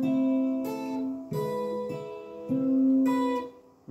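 Acoustic guitar picks out the opening two chords of a song as a steady fingerpicked pattern, notes ringing over one another, close and clear with no talking.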